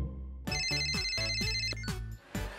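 A telephone rings in a Barbie cartoon, its bright electronic ringtone pattern repeating several times at close range over a backdrop of cartoon music, with no talking.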